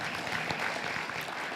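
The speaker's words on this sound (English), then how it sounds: "Let's give Brent a round of applause." Audience applause fills the room in a steady, even wash of clapping for a short stretch, with no voices over it.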